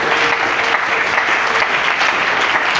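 Congregation in a church breaking into sustained applause, dense, steady clapping from many hands that fills the space evenly without a break, with no speech over it.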